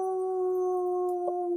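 A single person gives a long, steady wolf-like howl during a group call, voice imitating a wolf, sustained at an even pitch and fairly loud from start to finish.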